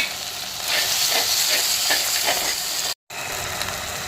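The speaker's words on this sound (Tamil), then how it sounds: "தக்காளி நல்லா வதங்கிடுச்சு" Tomatoes sauté in a hot pan for country chicken curry, giving a loud, dense, continuous sizzle with faint stirring pulses, close by, with a brief dropout near the end and no voices.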